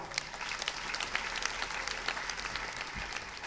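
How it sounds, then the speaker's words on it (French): A church congregation claps in praise of the Lord: a continuous spatter of many hands clapping at moderate distance, fairly even for a few seconds. "Je voudrais qu'on acclame le Seigneur pour ce premier pas"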